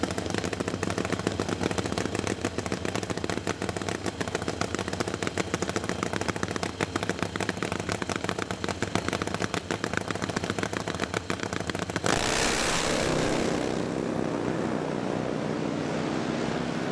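A nitro Pro Dragster motorcycle runs down the drag strip at Bristol, Tennessee, during an AHDRA race. A loud, sustained, crackling engine roar fills the track, then cuts to a rushing, fading wash as the bike passes.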